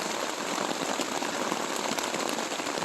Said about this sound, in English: I think you can hear the rain hitting my tent.